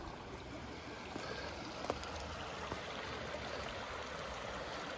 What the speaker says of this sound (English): We got running water though.